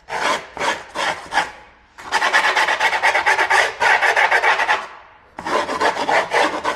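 A hand file rasps along the edge of skateboard grip tape: quick short strokes, then a long run of steady scraping, then more strokes, loud and close with no talk.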